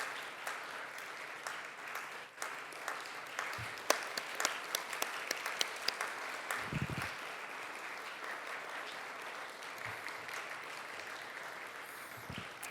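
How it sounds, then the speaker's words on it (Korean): An audience at a school chapel anniversary service in a Korean seminary breaks into sustained applause, steady and dense for the whole stretch with a few louder individual claps standing out. "박수 부탁드립니다."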